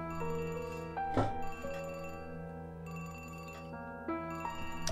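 Telephone ringtone from a point-and-click horror video game, a steady electronic melodic ring with sustained tonal notes repeating across the clip, clear and alone without talk.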